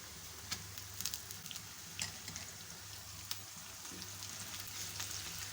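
Half a kilo of beef mince fries in a pan for keema karela, a steady close sizzle with occasional crackles and stirring scrapes, no voices.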